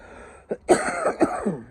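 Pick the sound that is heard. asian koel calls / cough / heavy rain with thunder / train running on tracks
cough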